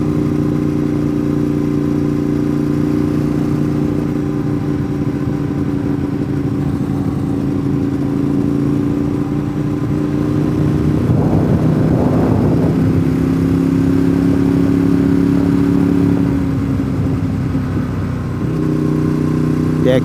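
A sport bike engine on Wolf Pen Gap Road in Georgia drones steadily and close with a wind rush, rising and shifting in pitch as the rider accelerates, heard alone without talk.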